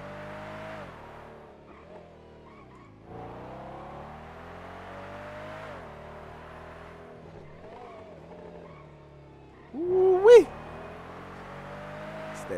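A supercharged car engine in a video game (GTA 5 with a custom engine sound mod) drones steadily with shifting pitch, rising into a sharp rev and brief squeal near the end, mostly alone without talk.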